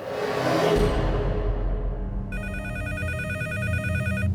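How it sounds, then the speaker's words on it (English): A telephone rings with a repeated electronic bell tone in the middle of the night, entering partway through over a dark ambient music bed, loud and close with no voices. "In the middle of the night, my phone started to ring."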